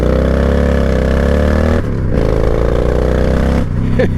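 A 1998 Honda Shadow 1100 cruiser motorcycle engine drones loud and close while riding, its note dipping twice between gears before pulling steadily again under wind rumble.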